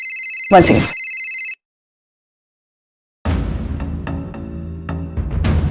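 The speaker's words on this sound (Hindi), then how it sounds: "डॉक्टर उषा का फोन" A telephone rings in two sharp electronic bursts, then silence, followed by room noise and faint movement.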